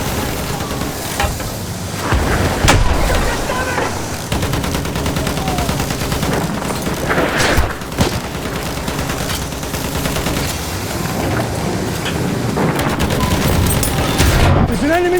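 Enemy machine gun fire and scattered gunshots crackle through a Battlefield 1 battle on the Somme, a dense, steady wash of combat noise with louder bursts near three and eight seconds.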